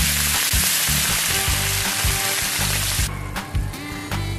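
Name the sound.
onion sautéing in a pan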